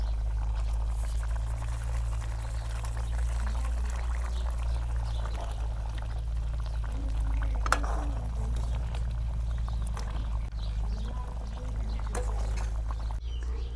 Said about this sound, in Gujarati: તો આપણે એમાં ગાંઠિયા નાખી દઈશું